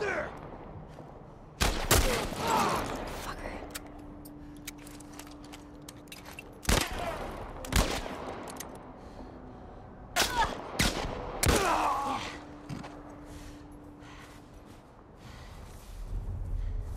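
Gunfire from The Last of Us Part I video game, several sharp loud shots in scattered bursts, some fired in quick pairs, with quieter stretches of ambient noise between them.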